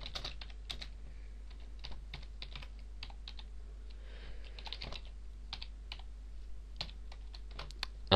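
Steady, close typing of PHP code on a computer keyboard: quick irregular key clicks in bursts with short pauses, fairly quiet, no voices.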